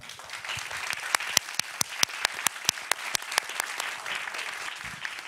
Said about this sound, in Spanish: entonces un aplauso para...